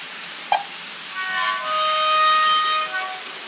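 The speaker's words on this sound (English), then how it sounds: "it just sounds as if it's a train running around." A Railmaster-controlled model train makes a soft whirring hum with faint high tones that rises and holds steady as it circles a track, with a couple of light clicks.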